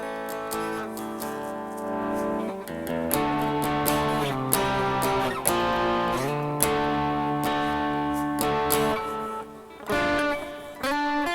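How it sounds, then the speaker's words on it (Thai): A heavily overdriven Fender Player Stratocaster (Mexico) electric guitar plays gritty, sustained chords and riffs with a thick, distorted tone, loud and close with brief pauses. "เสียงแตกนี้เป็นเสียงโอเวอร์ได"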